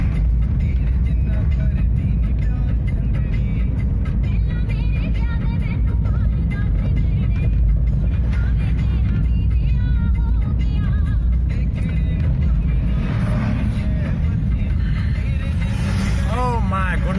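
Cars and trucks stream past on a road in Manali, a continuous loud traffic rumble with engines swelling and fading, while people talk over it and a high whine rises near the end.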